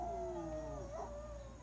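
A dog howls in one long, wavering, drawn-out cry that bends in pitch midway, heard faintly indoors against a steady low hum.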